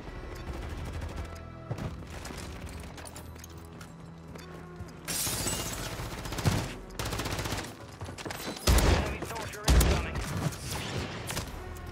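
Bryson 800 shotgun fire in Warzone 3, several sharp booming blasts spaced a second or two apart over quieter game ambience and clattering mechanisms.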